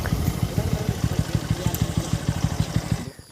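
A motorcycle engine runs nearby with a fast, even chugging pulse and steady rumble, holding a constant beat for about three seconds before it cuts off abruptly.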